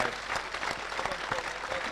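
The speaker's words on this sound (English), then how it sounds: "Round of applause, everybody." An audience at an evening event with Paul Gascoigne in the Lancastrian Suite, Dunston, breaks into dense, steady applause that fills the room for the whole stretch, with a few voices faintly mixed in.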